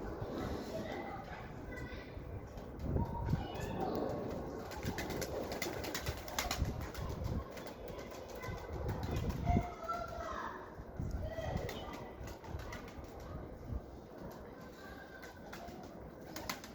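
Pigeons cooing and fluttering in the background under steady talk, with children's voices and general outdoor bustle throughout.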